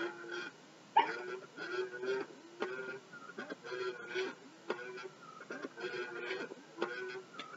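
A Baby Alive Real As Can Be baby doll sucking on a dummy, a mechanical rhythmic ticking and whirring repeated about every half second, close and steady throughout.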